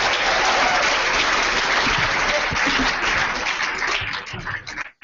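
Large audience at a First Frame 2014 event gives a sustained round of dense, loud applause that holds steady for about five seconds, then thins out and stops abruptly at the very end.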